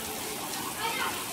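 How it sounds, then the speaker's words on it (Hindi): Heavy monsoon rain pouring down steadily in a village in Uttar Pradesh, a dense continuous hiss around a house courtyard, even and unbroken throughout. "यहाँ पे तो टावर तोड़ बारिश हो रही"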